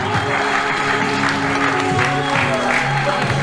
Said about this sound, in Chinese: 然后再次给他们一个热烈掌声，